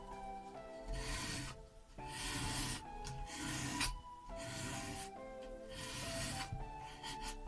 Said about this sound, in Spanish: pasando la lija con suavidad inicialmente